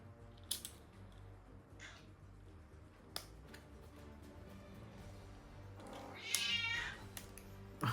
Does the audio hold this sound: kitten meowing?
yes